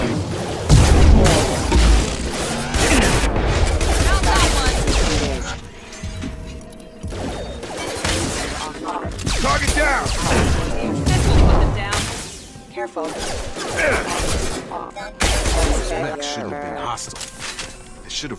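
Combat gunfire in the sci-fi video game Mass Effect 2, loud bursts of shots, crashes and booms in repeated waves, with speech mixed in among the explosions.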